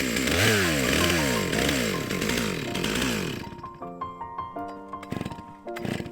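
A chainsaw cutting a fallen tree buzzes loudly with revving, wavering pitch, then sputters and dies, leaving a few irregular knocks and clatters at the end.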